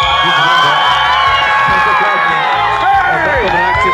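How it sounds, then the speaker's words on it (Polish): A crowd of spectators at a family picnic bike stunt show shouts as loudly as they can, with children's voices in it, a dense and sustained roar close to the listener. "Trzeba po prostu maksymalnie głośno krzyczeć"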